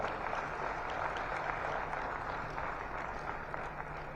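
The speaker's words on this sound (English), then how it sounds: "A big hand clap for Dr. Dorothy." Sustained applause from a large conference audience at an African blood transfusion congress honouring a doctor, a dense, even wash of clapping throughout.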